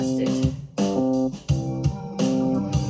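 A dark, droning synthesizer texture pulses in repeating swells with low thuds and metallic overtones, moody and steady with no voices.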